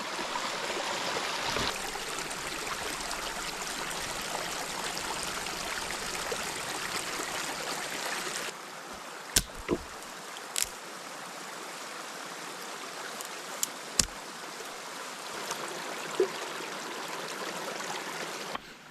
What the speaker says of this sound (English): The brook just disappears into the hills